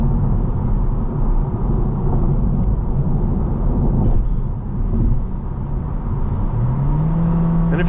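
A 2025 Honda Civic Hatchback engine accelerating, a loud, steady interior drone and road rumble with the engine note climbing near the end.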